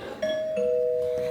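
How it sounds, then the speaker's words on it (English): A two-tone doorbell chimes indoors, a clear ding followed quickly by a sustained dong ringing out, close and alone. "Somebody rung the doorbell."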